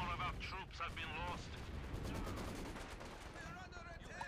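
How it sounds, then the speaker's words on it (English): Mortar and gunfire explosions pounding a machine-gun nest in a multiplayer shooter game, repeated booming blasts and rattling fire with players talking over the din. "I have two mortars shooting at it"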